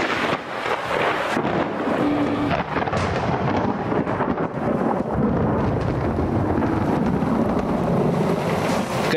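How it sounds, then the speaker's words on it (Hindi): Heavy downpour from dark morning clouds, a loud, continuous roar of rain and rushing water with gusty rumbles, steady throughout with no one speaking. "सुबह सवेरे आने वाले काले बादल ऐसे जमकर बरसे कि हर तरफ पानी पानी नजर आने लगा।"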